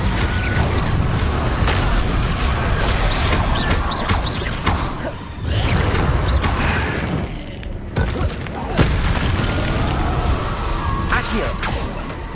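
Spell combat effects in Hogwarts Legacy, a dense, continuous wash of booming blasts, whooshes and crackling impacts, loud and layered with voices talking over the action.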